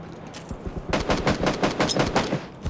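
Automatic gunfire in PUBG Battlegrounds, a loud, rapid string of shots in close bursts after a few scattered single cracks.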